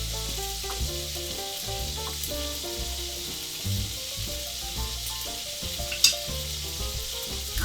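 Steaks frying in a pan with a soupy juice, giving a steady, dense sizzle throughout with small crackles and one sharper pop near the end, close and fairly loud with no talking.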